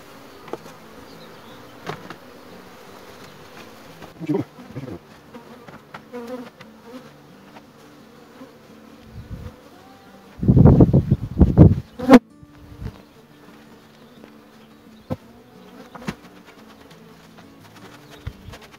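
Honey bees buzzing steadily around an open hive while a split is being formed, a continuous insect drone with handling clatter and a louder rustling burst partway through, no talking.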